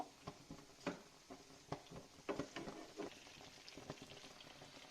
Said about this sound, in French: voilà, ça frémit